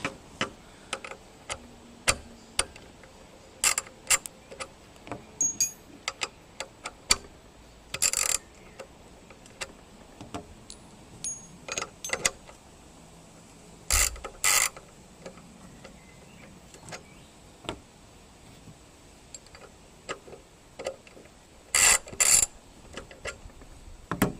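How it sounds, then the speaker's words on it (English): A 3/8-inch drive ratchet fitted with a Draper Expert wobble extension bar gives sharp, irregular metallic clicks and ratcheting ticks in short bursts with pauses, close and quiet, with no talk. "quickly we'll just test the fitment to the ratchet"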